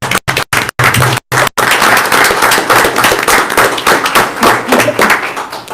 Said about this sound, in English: We want to give you a round of applause.